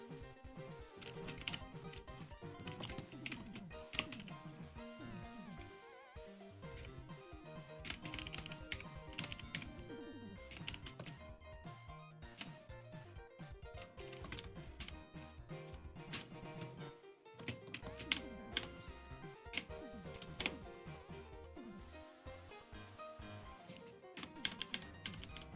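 Rapid typing on a computer keyboard during a live animation stream, a steady run of close, crisp key clicks with brief pauses and no talking.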